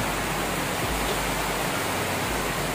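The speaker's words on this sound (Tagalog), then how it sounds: "super lakas ng ulan na naman" Heavy rain pours steadily, a dense unbroken roar of water with no pauses, loud and close.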